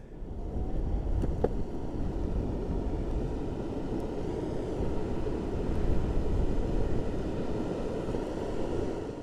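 A heavy battery-powered VEYMAX Cejour electric skateboard coasts without throttle at about 23 mph, its steady loud rolling roar of wheels and wind continuous throughout, with no talking.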